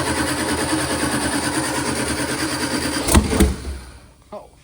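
A drag racing car on a hub dyno cranks and fires with a dense, rough mechanical roar, a sharp loud burst near the end, then the noise drops away.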